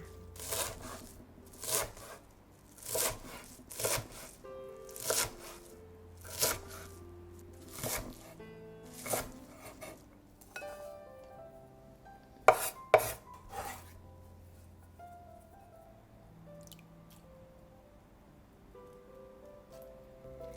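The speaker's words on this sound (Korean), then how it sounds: "달래를 쫑쫑 썰어줍니다" A knife chops wild chives on a cutting board in a steady series of soft thuds, close and fairly quiet, slowing and fading toward the end.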